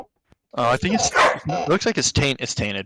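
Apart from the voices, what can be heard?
dog barking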